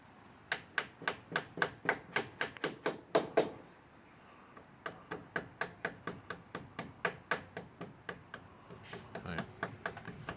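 A hammer taps in a steady run of sharp, close knocks on wooden boat frames being glued to the keelson, pauses briefly, then resumes with another even series of strikes.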